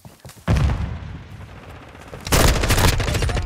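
Call of Duty: Modern Warfare II Remastered firefight, with sustained automatic gunfire and booming impacts, a lull and then a loud renewed volley, close and heavy.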